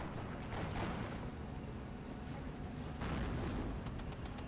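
Gunfire aimed at an Opel Blitz truck in the Steel Division 2 battle game, faint rumbling bursts of shots and booms rolling in waves around one and three seconds, distant and low in the mix.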